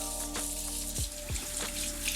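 Running water rinsing freshly dyed hair on the scalp, a continuous close splashing stream with occasional gurgles and knocks, no voices.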